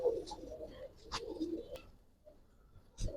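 A pair of Marshal pigeons give a few low coos close by, interrupted by rustles and a sharp tap, with quiet gaps between the sounds.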